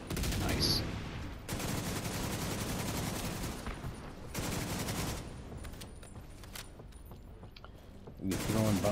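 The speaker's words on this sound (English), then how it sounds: "You're throwing bombs at me," Bursts of explosions and heavy gunfire in Destiny 2 crackle and boom in dense volleys, rising and falling in loud clusters with short gaps between them.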